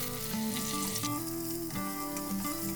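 Julienned potatoes frying in a pan, a steady close sizzle with a tuneful melody playing over it throughout.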